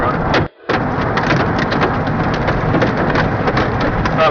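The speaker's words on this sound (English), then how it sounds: "we're losing the bigger hail, I think" Hail and rain pound a car during a tornado storm, a loud, dense, continuous clatter of impacts on the body and glass with one brief dropout near the start.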